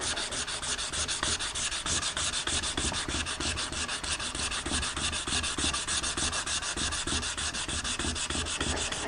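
Sandpaper worked back and forth across a steel surface at 400 grit, a close, steady rhythmic rasping scrub that repeats in quick even strokes without pause.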